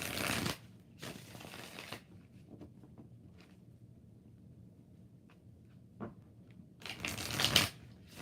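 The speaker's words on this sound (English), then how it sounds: "2 more shuffles" Tarot cards are riffled and shuffled in short bursts of crisp, papery fluttering, with a quieter stretch of soft handling between the louder shuffles.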